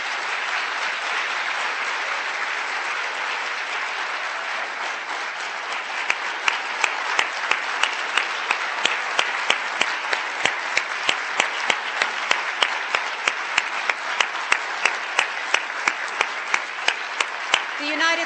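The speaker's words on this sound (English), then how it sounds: "Please join me in a final round of applause for this remarkable group of women leaders." An audience at the International Women of Courage Awards ceremony applauds a group of women leaders, with broad sustained clapping and sharper individual claps standing out near the front. Voices can be heard under the applause.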